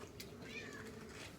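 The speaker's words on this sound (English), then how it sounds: "This kitty won't leave me alone." A cat gives a faint, short meow amid a farm setting with dairy cows, quiet against steady background noise.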